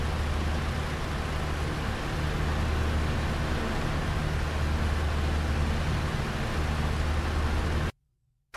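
Steady, droning engine hum of a Piper Cub light aircraft in the A2A flight simulator, a constant low rumble with broad airy noise that holds evenly, then cuts off abruptly at the end.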